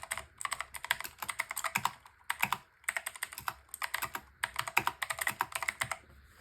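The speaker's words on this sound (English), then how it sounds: "clicky switches, quite clicky switches." Rapid typing on a Logitech keyboard fitted with Gateron GX Blue clicky switches, with crisp, close key clicks in quick irregular bursts separated by short pauses.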